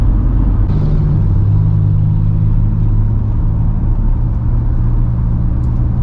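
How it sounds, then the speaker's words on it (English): An RV rolls through Phoenix rush hour traffic, a steady low engine and road rumble droning throughout at close range with no talk. "Well, I'm still in Phoenix rush hour traffic."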